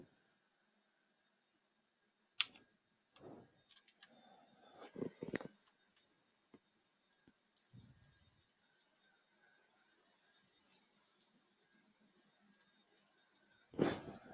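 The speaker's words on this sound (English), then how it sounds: "I was clicking the braking indicator and it wasn't doing anything." Sparse mouse clicks on a computer while operating a flight simulator's braking indicator, a few sharp clicks spread across the clip with a louder burst near the end, quiet and close with no talking.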